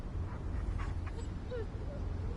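A dog whimpers faintly in The First Descendant video game, with a few soft whines and yips over a steady low rumble of game background noise.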